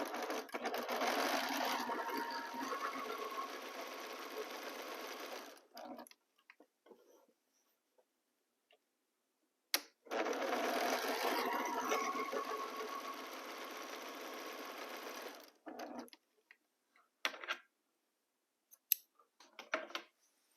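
A sewing machine stitches fabric squares for a Churn Dash quilt block in two long, steady bursts of close, rapid mechanical whirring, each followed by quiet pauses with a few small clicks and handling sounds.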